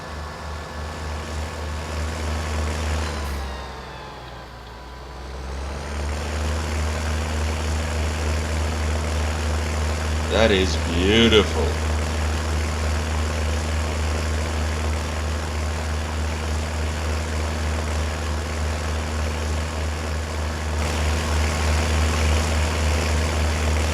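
An old 140-horsepower Fahr tractor engine in Farming Simulator 19 drones steadily and loudly while accelerating, dipping briefly before climbing back to a constant low rumble, with a short spoken remark in the middle.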